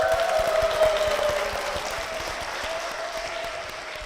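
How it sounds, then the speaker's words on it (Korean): A congregation at Seocho Church in Korea welcomes a guest with moderate, even applause that fades slightly over four seconds, with a steady tone sounding faintly beneath it. "박수로 모시겠습니다"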